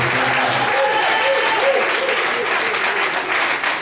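A church congregation applauds, a dense, loud, sustained clapping from a large crowd with a few voices mixed in.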